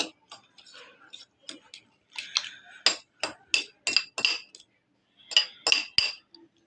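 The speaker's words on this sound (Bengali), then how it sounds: "ডিম দুটো দিয়ে দিলাম, মিক্স করে নিব।" Eggs and other ingredients whisked together in a bowl for an evening snack, giving rapid, close clinking taps of utensil against the bowl in short bursts, with no talk.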